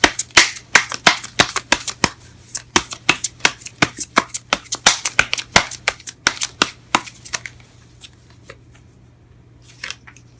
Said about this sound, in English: Let me just pull one more card for that